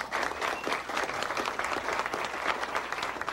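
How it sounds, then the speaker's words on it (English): Spectators at a roping convention give a big round of applause to the competitors' parents, with brisk, dense clapping from the crowd that stays lively throughout the short burst. "I think their parents deserve a big round of applause as well"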